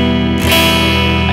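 An electric guitar played through a Line 6 POD Go amp model with no other effects rings out a single loud, sustained note or chord struck once with a sharp attack.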